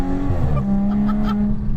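An Audi S5 with a full straight-pipe exhaust howls under load while driving, a loud sustained engine note that shifts pitch through the run, close and unbroken.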